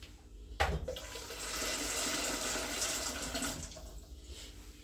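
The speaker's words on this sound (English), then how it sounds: "I'm gonna add a bit more water to it and put it to pressure." Water running from a tap and pouring into a pot of peas soaking with garlic, a steady rushing splash starting abruptly and continuing for several seconds before tapering off, close and alone.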